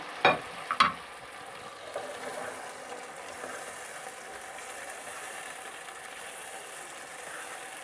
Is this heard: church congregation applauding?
no